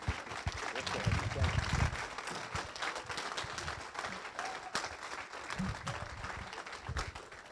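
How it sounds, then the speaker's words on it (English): An audience at a Meet the Bengals event for LSUE claps in a sustained round of applause, loudest early and tapering off while a voice talks over it. "let's give Coach Brady one more round of applause."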